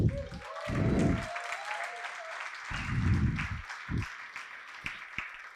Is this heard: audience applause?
yes